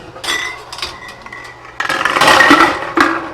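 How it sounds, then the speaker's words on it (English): Glass canning jars clink and knock against a metal pot of boiling water, several close clattering contacts over a faint bubbling background. "I'm going to take my jars and just place them in there"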